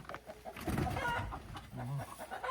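Clucking from freshly bought hens fills the air, close and steady, with a brief rooster-like call near the end and no talk over it.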